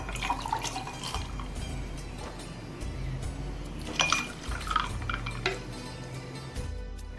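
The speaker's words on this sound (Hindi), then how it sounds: "अब इसमें जूस डालना है जो मैंने बनाया है।" Homemade falsa juice poured into a glass in a home kitchen, a soft continuous liquid trickle with light clinks of glassware and utensils, steady and close, no talking.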